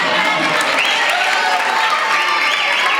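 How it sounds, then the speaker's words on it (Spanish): Audience applause in a lecture hall on the Generation of '27 poets, dense and steady for the full three seconds, loud and close with a hint of crowd noise. "Un aplauso, por favor."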